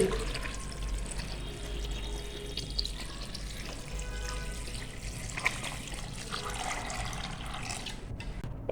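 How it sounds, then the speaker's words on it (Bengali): Water poured into a pot of chickpeas for boiling, a faint continuous trickling and splashing stream lasting several seconds with a low background hum, no talk. "দিয়ে দিচ্ছি পানি"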